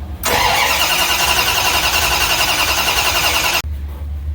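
A Mopar 340 small block V8 in a Dodge Dart cranks and fires up loudly up close, then runs with a rough, rumbling burst for about three seconds before cutting abruptly to a lower idle rumble.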